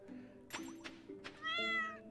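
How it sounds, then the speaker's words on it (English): A cat meows in the farming video game Stardew Valley, three or four short close mews in quick succession ending in a longer, higher meow, with no talking. "Meow. You're kind of in the way, kitty."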